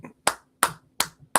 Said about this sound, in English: I'm hearing clapping.